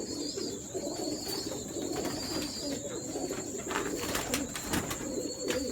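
Pigeons coo repeatedly in low, soft rolling calls at a breeder's loft, a steady chorus of several birds with faint chirps above, close by and without talk.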